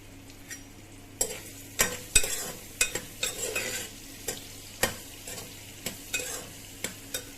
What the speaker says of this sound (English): To this oil, I'm going to add 1 bay leaf, and about 3 onions.